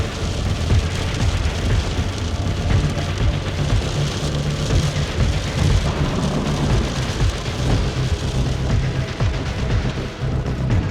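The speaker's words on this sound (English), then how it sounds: "driving through the thunderstorm." Heavy rain drums on a car roof and windshield while driving through a thunderstorm, a dense, constant downpour with low rumbling underneath, loud and unbroken throughout, with no voices.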